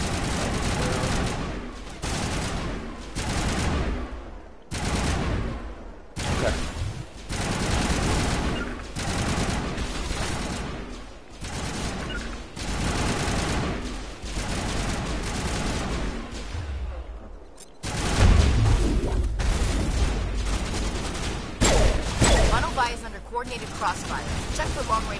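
Rapid bursts of automatic gunfire from a Mass Effect firefight on planet Virmire crackle in repeated volleys, loud and close, with short pauses between strings of shots and a heavier boom near the end; a voice talks over parts of it.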